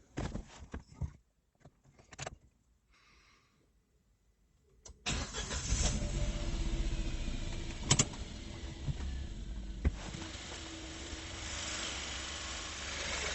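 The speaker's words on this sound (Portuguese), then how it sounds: "vou dar partida ali no carro" A car's engine is started with a multimeter clamp on the negative battery cable: a few clicks and rustles, a brief quiet, then the engine catches and settles into a loud, steady idle that runs to the end.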